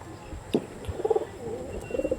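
Andhra Kalshira pigeons give a few soft, close coos in short rolling bursts over a faint, quiet background.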